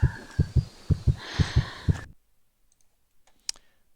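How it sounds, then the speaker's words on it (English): A self-avatar's heartbeat and breathing play together as a multisensory display: a steady series of about eight deep, thumping beats under a soft breathing hiss, then abrupt near-silence with one faint click. "a video of both multisensory display of heart beating and breathing"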